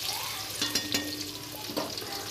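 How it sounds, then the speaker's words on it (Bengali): Onions frying in oil left over from frying potatoes in a village kitchen give a soft, steady sizzle, with a few brief clinks and stirring sounds, faint and close. "পেঁয়াজগুলো লাল লাল করে ভেজে নিতে হবে।"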